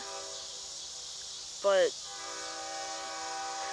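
A CSX train in a train simulator game sounds one short, clear horn blast at a distance over a steady rumble and chirping insects, with a voice speaking faintly.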